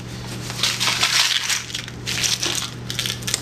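A container holding 500 small .17 caliber air gun pellets is handled, and the many tiny lead pellets rattle and clink against each other inside it for a few seconds, close and fairly loud.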